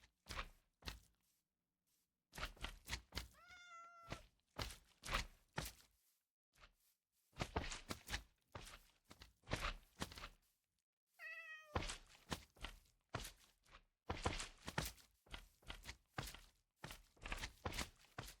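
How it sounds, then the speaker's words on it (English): A cat meows twice in a video game, the two calls well apart, between soft footsteps and dull thunks with quiet gaps. "That cat left the village."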